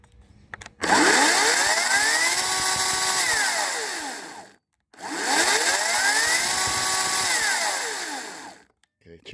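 A chainsaw, just adjusted with its chain tightened and bar oil topped up, revs loudly at close range in two sustained bursts with a brief pause between them, its pitch rising and falling as the throttle opens and eases.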